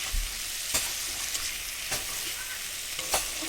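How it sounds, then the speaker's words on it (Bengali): Chicken pieces seasoned with salt and turmeric fry in a kadai over high gas, catching slightly on the pan. A steady, close sizzle runs throughout, broken by a few sharp spoon-stirring scrapes and clicks, with no talking. "তারপর আমি চিকেনটা ভাজছি হালকা"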